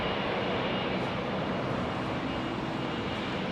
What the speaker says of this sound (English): Look how clean this 737 is